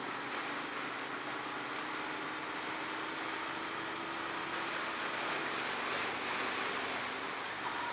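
A Royal Enfield Continental GT 650 motorcycle engine running steadily at close range through a continuous ride, with a smooth, even drone and no distinct breaks as gears change up and down.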